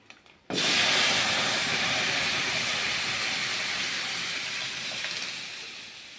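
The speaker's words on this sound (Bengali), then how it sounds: "এখন ডালটা দিয়ে দিব।" Lentils hit a hot pan of fried coconut after a moment of quiet, setting off a sudden loud burst of sizzling that holds as a dense, steady hiss and slowly eases.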